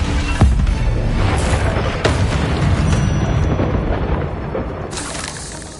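Bombarda spell explosions in Hogwarts Legacy, with a loud booming blast and crashing debris, then a second blast and a lingering rumble.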